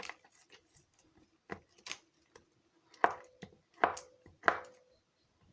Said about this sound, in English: I'm going to cut these pieces up.